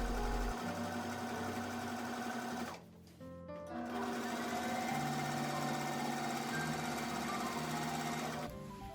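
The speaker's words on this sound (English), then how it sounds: "And now I'm sewing the hem." A sewing machine stitches a double-turned, pressed hem along the bottom edge of a skirt, running in a steady, close mechanical whir that pauses briefly near the middle and then resumes at full speed.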